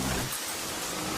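Heavy rain pours in a dense, continuous hiss that fills the whole clip, loud and steady with no voices.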